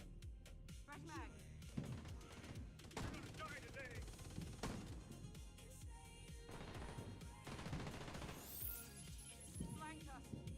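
Video game gunfire from a squad firefight: dense, rapid automatic bursts and crackling shots run continuously, overlapping with shouted voices and radio-style callouts throughout.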